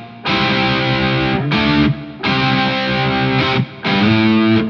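Distorted electric guitar through an amp simulator with reverb switched on, playing three sustained chord bursts separated by short pauses, each ringing loudly and evenly.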